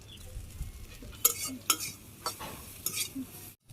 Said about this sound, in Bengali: এই যে পেঁয়াজ ভাজি হয়ে গেল, শাকগুলো দিয়ে দিব।